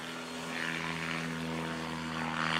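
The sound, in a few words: Rans S7 light aircraft taking off at full throttle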